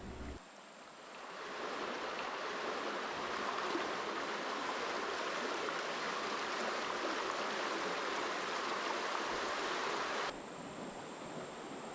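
The San Marcos River flows beneath a footbridge in a Texas state park, a steady broad rushing hiss of water that holds even and close, then drops off abruptly near the end.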